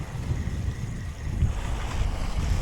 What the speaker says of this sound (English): Really tricky wind though.